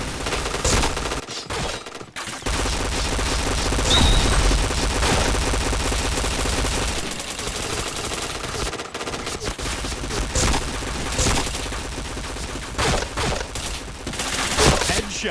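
Dense, continuous automatic gunfire from a shooting video game with repeated headshot kills, rapid bursts packed close together at steady loudness for the whole stretch, with occasional brief gaps and faint talk underneath.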